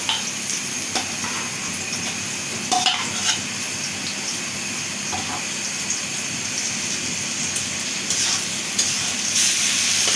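Onions sizzle steadily in a hot pan, close and continuous, with a few brief clinks of stirring.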